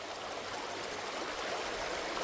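River water rushes through a gold sluice box, a steady, dense, close-up wash of flowing water that stays even throughout with no voices.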